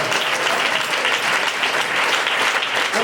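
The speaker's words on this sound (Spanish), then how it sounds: "Denle ese aplauso al Señor." A church congregation claps for the Lord in a continuous, even wash of applause that holds at full strength throughout.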